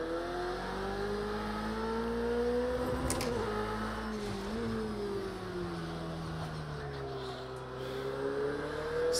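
Race car engine in Project CARS 2 droning steadily at high revs, its pitch rising and dipping through corners, loud and continuous with brief bumps and tyre noise near the three-second mark.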